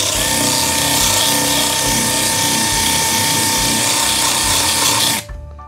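A DeWalt DCM200N cordless belt sander runs at full speed, a loud steady whine with a rough abrasive rasp that stops abruptly near the end, with no talking.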